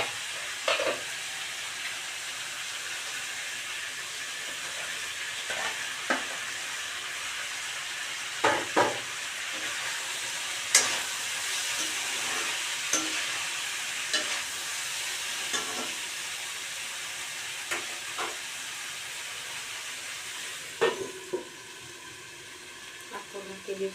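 Potatoes sizzle in a pan with chicken curry, a steady frying hiss broken by sharp spoon scrapes and clinks at irregular intervals, close and loud throughout.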